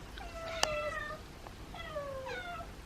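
Two cats, including a trapped feral, meow back and forth to each other, with several clear drawn-out meows and a sharp click partway through; no voices are heard.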